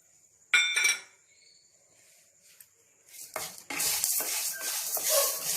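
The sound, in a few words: frying chana dal and urad dal in oil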